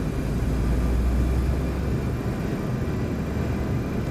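Saab 340 turboprop engines roar in reverse thrust in the X-Plane 11 flight simulator, a steady, loud broadband rumble with a deep low drone and no voices.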